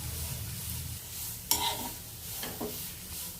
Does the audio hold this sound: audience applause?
no